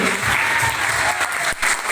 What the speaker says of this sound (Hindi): जोरदार तालियां, जोरदार।